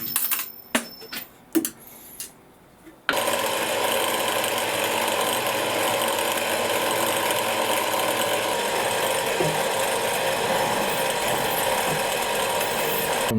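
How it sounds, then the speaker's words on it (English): A drill bores a pilot hole into a broken turbo bolt on a Nissan Navara D40, a steady continuous whirring grind close by, preceded by a few short clanks and taps. "Tom's just drilled the hole, the first pilot in the middle there"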